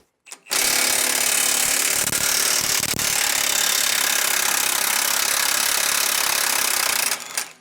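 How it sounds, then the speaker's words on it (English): A power tool, likely an impact wrench, runs loud and steady for about seven seconds, taking the U-bolt nuts off a 2023 vehicle's axle during a steering stabilizer install, with brief bursts near the start. "We'll go ahead and just start taking off the U-bolts nuts as well."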